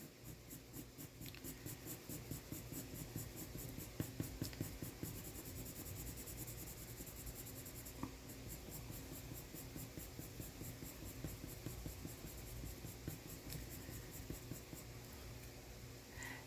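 Colored pencil scratching steadily across paper while shading flower petals, a close, continuous dry rasp with faint strokes and light tapping, no talking.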